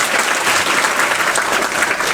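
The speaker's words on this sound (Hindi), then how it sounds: "उसके लिए तौकीर सर के लिए भी एक बार तालियां बजा दीजिए।" Audience at a school program in honour of a teacher breaks into dense, steady applause, many hands clapping loudly and evenly throughout with no voices standing out.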